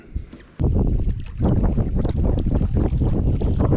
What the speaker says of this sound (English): the wind's picked up so much